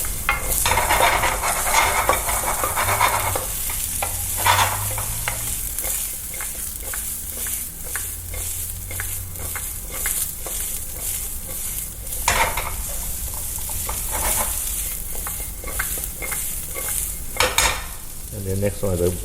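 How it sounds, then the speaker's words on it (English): Butter melting in a pan with edamame gives a steady broadband sizzle and fry hiss across the whole stretch, with occasional stirring scrapes and utensil clinks; no talking. "And after that, you can put the butter in it."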